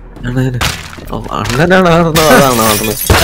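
A glass window shatters in the video game Teardown, a loud, bright, noisy crash that carries on briefly, mixed in with excited overlapping shouting voices.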